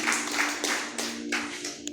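A church congregation claps in a burst of bright slaps that thin out into a few scattered hits over about two seconds, with a low hum beneath.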